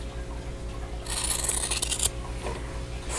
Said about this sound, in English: now I'm going to cut this outer corner away